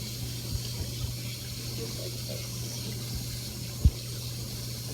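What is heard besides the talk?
water running from a tap while rinsing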